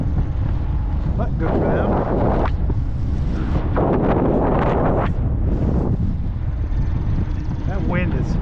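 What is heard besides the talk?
strong wind blowing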